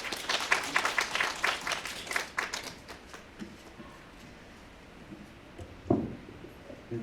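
Audience applause at a 2022 arts and culture funding information session, a dense burst of clapping that fades out over several seconds, leaving quiet room tone with a soft thump near the end.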